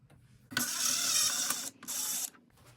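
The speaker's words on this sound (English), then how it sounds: "there's one screw right here. We have to remove that screw. It's T20, number 20." Screwdriver backing a T20 screw out of a Maytag dishwasher control panel, heard as two close, loud stretches of dry ratcheting mechanical whirring separated by a short pause.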